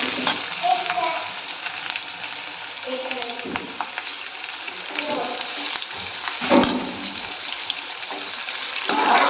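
Finely chopped onion sautéing in oil for a simple soybean vegetable dish, a loud, continuous sizzle with scattered crackles and occasional stirring scrapes close by, with no voices.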